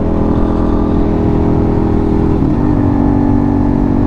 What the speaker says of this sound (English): it does sound amazing with the exhaust that the owner has on it